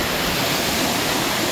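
Loud, steady rush of fast-flowing river water over rocks at Pagsanjan Falls, Laguna, a dense continuous roar with no voices.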